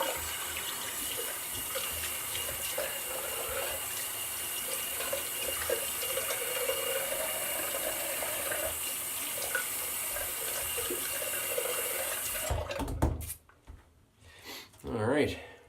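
Water runs loudly and steadily from a tap while a shaving razor is rinsed under it, a continuous close splashing gush that cuts off near the end, followed by brief handling sounds.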